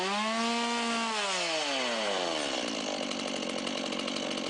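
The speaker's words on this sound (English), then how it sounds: "I needed to learn how to use the equipment, specifically this chainsaw" A chainsaw at a haunted house attraction roars loud and close, its engine pitch sliding down from a high rev and then settling into a rough, steady idle-like running buzz.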